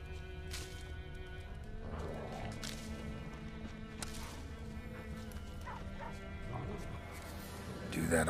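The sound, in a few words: dog barking in The Witcher 3 video game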